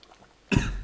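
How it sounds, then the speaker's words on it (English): A person coughing after water went down the wrong pipe, one sudden loud harsh burst after a quiet moment, close to the microphone. "Made me cough up a storm"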